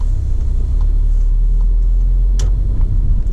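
A car engine rumbles steadily in second gear during a driving lesson, a close, continuous low drone with a slight rise as it accelerates, no voices over it.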